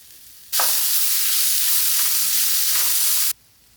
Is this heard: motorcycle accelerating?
no